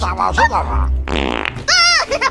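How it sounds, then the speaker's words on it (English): A cartoonish reindeer fart sound effect from the Christmas comedy film The Santa Clause 3: The Escape Clause, with a comic blatting, pitch-bending tone that repeats in bursts over a couple of seconds, loud and up close. "The reindeer fart is pretty funny."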